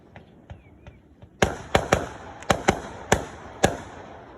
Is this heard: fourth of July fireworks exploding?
yes